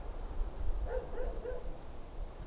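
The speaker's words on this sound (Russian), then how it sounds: "эта собака залаяла сзади" A few short dog barks sound at a distance over steady background noise, spaced close together.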